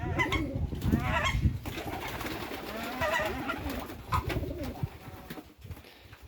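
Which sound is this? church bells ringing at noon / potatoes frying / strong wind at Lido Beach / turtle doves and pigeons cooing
turtle doves and pigeons cooing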